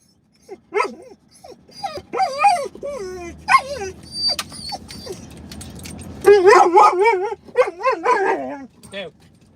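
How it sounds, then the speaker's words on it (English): Several dogs bark, yip and whimper in excited bursts at an outdoor spot with many dogs, some close and loud, overlapping with people talking nearby. "There's a lot of doggies out there."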